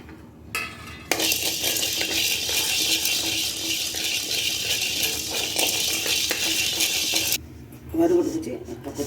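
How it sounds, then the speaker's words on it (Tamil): Black peppercorns dry roasting in a pan for idli dosa podi, stirred with a utensil: a steady, close rattling and scraping of hard grains against metal that runs for several seconds, with brief gaps at the start and end. "இப்போ மிளகு வறுத்து வச்சுக்கிறோம்."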